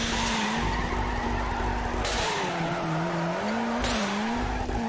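Car engine in the video game Torque Drift, held near red line with a steady droning whine that wavers in pitch, alongside loud continuous tire squeal from drifting, with no voices.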